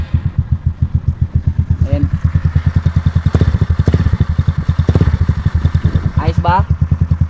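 A Motorstar Easyride 150CL motorcycle engine idles close up with a loud, steady, rapid thumping pulse, and brief sounds of a person's voice come through partway.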